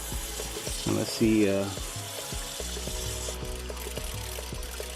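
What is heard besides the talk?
water filling a tank through float valve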